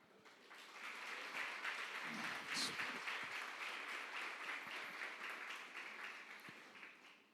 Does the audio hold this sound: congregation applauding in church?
yes